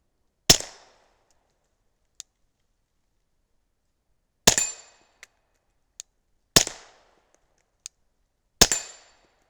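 Suppressed Glock 19 pistol fired through an Omega 36M silencer at a steel plate: four sharp, loud shots spaced a couple of seconds apart, each with a short decaying tail, and fainter metallic pings from hits between them.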